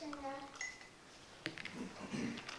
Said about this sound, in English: Add a couple of drops of food coloring each and stir it in.